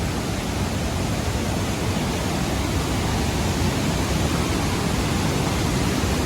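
Strong, fast-flowing river water rushes in a dense, steady roar that stays constant and loud with no pauses.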